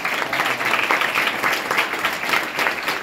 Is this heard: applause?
yes